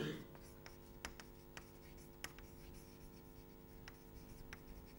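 Chalk or marker taps and scratches on a board during a mathematics lecture, faint and intermittent, with sharp little strokes scattered through a quiet room.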